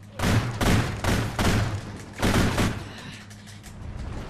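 Rapid gunfire in the video game Call of Duty: Ghosts, loud bursts of shots repeating close together for a few seconds, then a faint tail.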